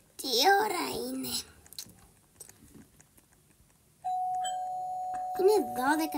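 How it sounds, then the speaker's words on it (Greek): A two-tone doorbell sounds in a home, a sustained electronic chime lasting about two seconds before fading, with voices talking before and after it. "Ποιος χτυπάει κουδούνι?"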